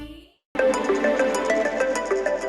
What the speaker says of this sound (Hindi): कला का फोन आ रहा है